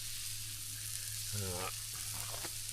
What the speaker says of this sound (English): What is it about onions on a barbecue?